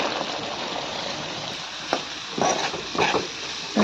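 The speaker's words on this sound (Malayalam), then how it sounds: "ഇതിലോട്ട് നമുക്ക് ഓമയ്ക്ക തട്ടിയിട്ട് കൊടുക്കാം" Chopped raw papaya is added to thick spiced oil in a pan and stirred. A steady frying hiss runs throughout, and a few soft thuds and scraping bursts come near the end.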